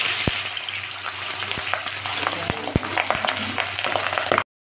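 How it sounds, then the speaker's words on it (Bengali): Papda fish sizzling in hot oil in a village kitchen, a steady loud fry hiss with several sharp pops and crackles as pieces go into the pan one by one. "তেলটা আমার গরম হয়ে গেছে, এবার মাছগুলো আমি একে একে দিয়ে দিই"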